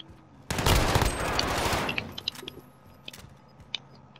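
A burst of rapid automatic gunfire in Call of Duty Modern Warfare, loud and dense for over a second, followed by scattered fainter shots and clicks, with no talking.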